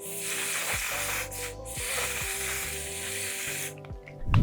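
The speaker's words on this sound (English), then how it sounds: "I'm going to set the makeup with a matte setting spray" A continuous fine hiss of matte setting spray misted onto a face runs for several seconds over a background music track, then cuts off abruptly near the end.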